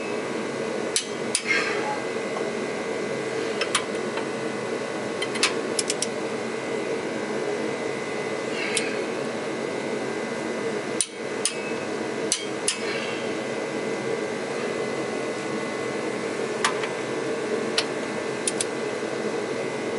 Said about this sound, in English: Alright, now we need to start torquing them.